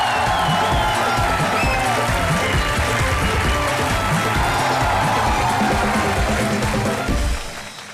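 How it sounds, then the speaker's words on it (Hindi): Studio audience at a comedy show breaks into sustained, loud applause with dense clapping and some cheering, holding steady before fading out at the end. "इनके लिए जोरदार तालियां."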